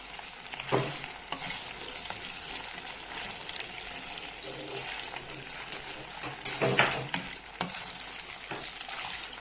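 Pasta with minced meat sauce is stirred in a pan, soft scraping and clinking strokes with a faint sizzle, growing louder and busier toward the end.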